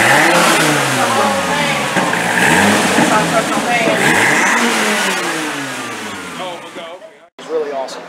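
A loud Mopar muscle car engine roars and revs with deep exhaust rumble from side exhausts under the doors, pitch sweeping up and down, then fading away before a brief final burst.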